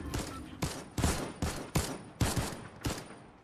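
Bursts of gunfire in the video game Fortnite during a Duo Reload Cup match, about seven loud, sharp volleys at irregular intervals, each with a short decaying tail, close and with no talk.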